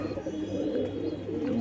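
Racing pigeons coo steadily on a rooftop loft in Punjab, a close, continuous low cooing with no other voices over it.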